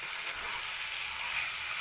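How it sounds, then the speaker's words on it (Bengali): Steady, hissing sizzle as hot water is poured into frying spice masala for a duck egg curry, close and continuous with no break. "তো আমি এবার এর মধ্যে 2 কাপ জল দিয়ে দিচ্ছি।"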